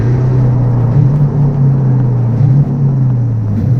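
Steady low drone of a 2020 Chevy C8 Corvette engine cruising in Z mode, with slight pitch dips and rises as it shifts, continuous and fairly loud with no talking.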